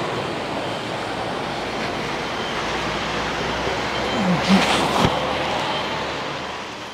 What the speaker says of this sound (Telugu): చూడండి ఇట్లా వాటర్ ఎక్కడ పడితే అక్కడ పోతూనే ఉంటాయి